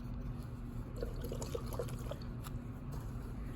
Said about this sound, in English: give it a good rinse in cool water.